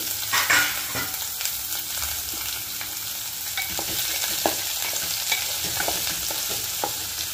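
Onions fry in a pan for a banana and drumstick curry, sizzling steadily under repeated stirring with clicks and scrapes of a spoon against the metal. No voices are heard.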